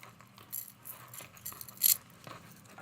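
Tangled metal jewelry from a bag is handled, giving faint, close, scattered clinks and jangles in short bursts.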